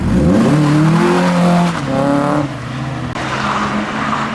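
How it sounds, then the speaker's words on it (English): Modified tuner cars roar out of a car show exit one after another, engines revving hard and rising in pitch as they accelerate past, loud and close with a steady wash of exhaust noise. "go to the exits and capture cars leaving"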